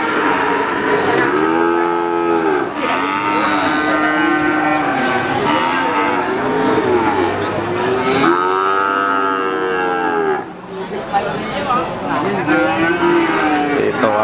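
Cattle moo loudly and repeatedly at the crowded Waginan Warkurjo cattle market in Pati, long drawn lows overlapping one another against a constant busy background din.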